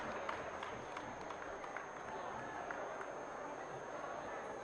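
Crowd applause welcoming a chief minister at a public felicitation ceremony, a dense steady wash of clapping that holds at an even level from start to finish with a faint background hum.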